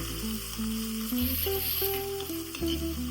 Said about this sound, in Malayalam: ഉള്ളി വെളുത്തുള്ളി ഇഞ്ചി ഇത്രയും അരിഞ്ഞെടുത്തിട്ടുണ്ട് കേട്ടോ അതുകൂടെ ഇട്ട് കൊടുക്കാം നല്ലവണ്ണം മിക്സ് ചെയ്യാം